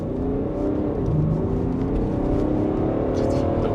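A BMW Alpina D3 Touring (F31) diesel estate accelerating hard, a steady, loud engine drone with rising harmonics that pulls continuously for several seconds, heard from inside the car without talk.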